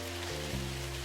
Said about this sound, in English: let's see, is it gonna rain or is it not? It rained.